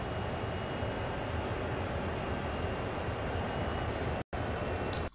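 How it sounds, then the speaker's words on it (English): A CSX heavy haul freight train in Train Sim World rolls past in a steady, loud, dense rumble of wheels and cars, continuous and close with a brief dropout near the end, no talking. "Have a view this side while the train passes by."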